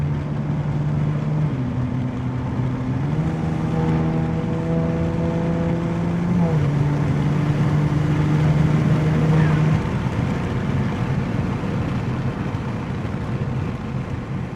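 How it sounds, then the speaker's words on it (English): A modified BMW G80 M3 accelerates hard, its engine and intake droning loud and steady from inside the cabin as the pitch climbs in stepped gear pulls, with brief shifts and a steady road roar underneath. "I just love the intake sound."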